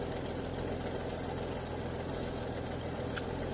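A 1989 Jeep Cherokee XJ with the Renix engine idles steadily nearby, a constant low rumble with a faint knock and no talking.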